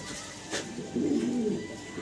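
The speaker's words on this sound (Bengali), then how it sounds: "এক জোড়া ব্লুবার লাহোরি কবুতর দেখাচ্ছি আপনাদেরকে" A Lahori pigeon gives a soft, low cooing burst, close and clear, over a faint background hiss.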